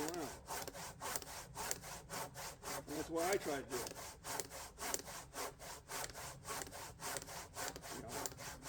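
Hand saw cutting through a wooden log in the woods, a rapid rhythmic rasp of push and pull strokes repeating steadily and close by, with someone talking briefly over it.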